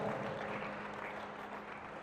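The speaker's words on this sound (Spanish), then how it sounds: "¿Cuánto le damos un fuerte aplauso al Dios de gloria?" A church congregation claps together in sustained, even applause, a dense steady patter filling the room with no talk over it.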